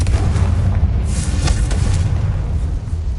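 A Confringo fire spell blast in the Hogwarts Legacy video game, a loud, sustained booming roar with heavy low rumble and a few sharp bursts layered through it, alone without talk.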